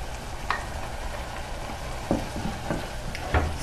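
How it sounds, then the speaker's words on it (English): A spoon stirs tomato sauce with crushed garlic and cilantro in a hot pan, giving a steady close sizzle broken by a few light scrapes and knocks. "Stir it well."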